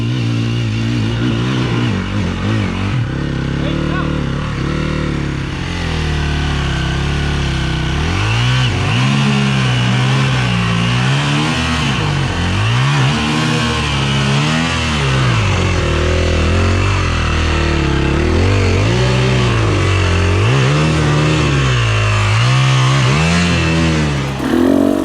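A dirt bike engine revs hard on a steep singletrack climb in the Pacific Northwest. It is loud and close, with continuous throttle surges rising and falling as the rider works up the trail, and no talk is heard.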